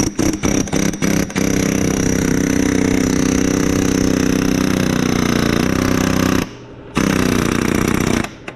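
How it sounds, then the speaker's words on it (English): A pneumatic air hammer rattles loudly and continuously while working on a blown-up Ford 3.0 V6 EcoDiesel engine, starting with a few short bursts, then a long sustained run with a brief stop near the end. "it's eating my air hammer bit"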